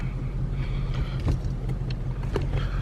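Ford Mustang 5.0 Coyote V8 idling with its exhaust cutouts closed, a steady low rumble holding close and even throughout, with no speech over it.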